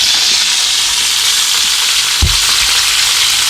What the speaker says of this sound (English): But now we're going to dump our vegetables in.